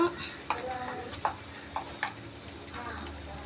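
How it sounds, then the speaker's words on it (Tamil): Liver being stirred with salt, turmeric powder, garam masala and mutton masala in a pan, soft scrapes and taps of a spoon every half second over a quiet sizzle, faint and close. "இப்போ இதெல்லாம் நல்லா மிக்ஸ் பண்ணி விட்டுறலாம்"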